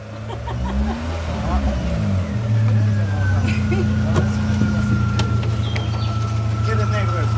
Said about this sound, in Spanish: Ahora les voy a enseñar el motor.